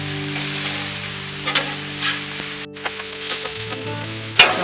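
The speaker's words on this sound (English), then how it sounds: "we're going to put the garlic and the onions to start grilling that time" Garlic and onions sizzle on a Blackstone flat-top griddle for street tacos, a steady close frying hiss with a few light scrapes and taps on the cooking surface, and no voices.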